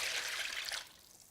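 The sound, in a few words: pouring chicken stock into a pot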